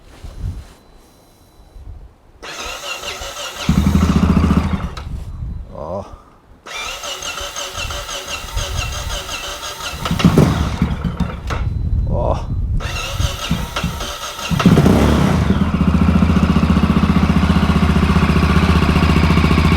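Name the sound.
Yamaha Ténéré motorcycle engine starting and idling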